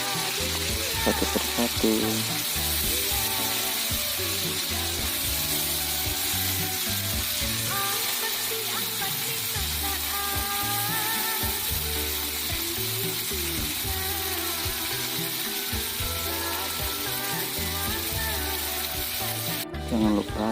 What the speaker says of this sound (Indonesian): Minyak panas ya. Lalu kita masukkan ayamnya